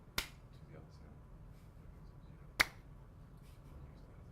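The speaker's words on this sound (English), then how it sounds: "this clap will give us a sync of sound" Two sharp hand claps at a press conference, made to sync sound, ring out about two seconds apart against a quiet room hum, each crisp and close.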